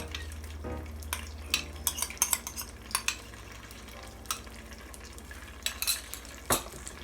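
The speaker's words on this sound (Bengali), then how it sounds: "এবার মিডিয়াম আঁচে এই সব কিছুকে কষিয়ে নিতে হবে" Ginger, garlic and a yogurt spice mixture frying in a pan for ilish polau, a steady soft sizzle broken by repeated sharp scrapes and clinks of a spoon stirring against the pan.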